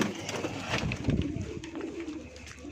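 A pigeon, a female at a breeder's loft, coos in low, repeated throaty murmurs, close by, with light rustling and other bird sounds around it.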